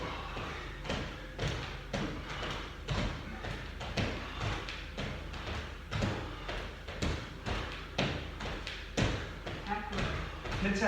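Repeated dull thuds of feet landing during star jumps in a workout session, a steady rhythmic pounding across the whole stretch, close and moderately loud, with voices talking over it.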